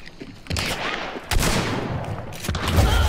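Shotgun blasts in a Call of Duty video game, a few heavy booming shots spaced about a second apart, loud and close, with game noise between them.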